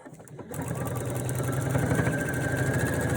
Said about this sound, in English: And just sew right along that line.